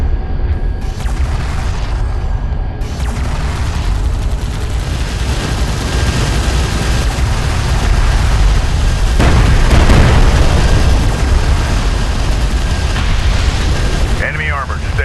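Enemy strike craft and armor explode in battle in the Homeworld: Deserts of Kharak game: loud, continuous booming blasts rumble over a dense, roaring background that swells toward the middle and never lets up.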